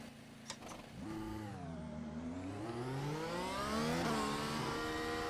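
A Mercedes W12 Formula One car in the iRacing sim pulls away and accelerates, its engine whining up through rising pitch sweeps with a brief dip for a gear change. The engine note is loud and continuous, with no voices.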